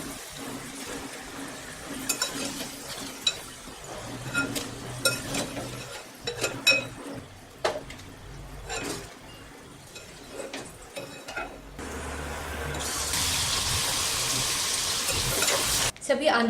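Potato snack pieces for a Navratri fast fry in hot oil with a steady sizzle, punctuated by scattered clinks and stirring scrapes, and the hiss swells louder and brighter over the last few seconds.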